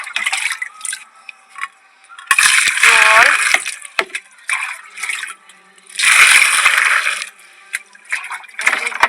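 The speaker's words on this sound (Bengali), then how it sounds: "এখান থেকে জল নিচ্ছি দেখুন" Water is drawn for watering potted rose plants in a rooftop garden during winter care, heard as two loud rushing, splashing bursts separated by quieter clinks and drips.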